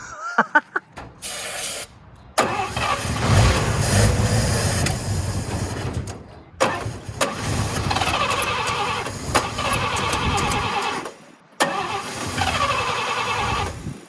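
An old car engine cranks repeatedly on a small amount of gas, with several bursts of starter churning and sputtering broken by short silent gaps, close and loud, no talking.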